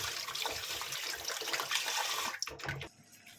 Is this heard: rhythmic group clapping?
no